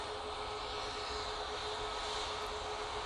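TUI airliner departing Manchester Airport for Larnaca, a steady broad jet engine roar with a constant tonal whine, heard from a distance and unbroken, with no talk.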